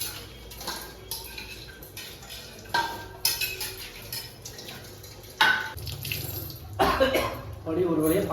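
Dishes are washed under a running tap at a sink, with water splashing and pots and cutlery clinking intermittently, while people talk and someone coughs nearby.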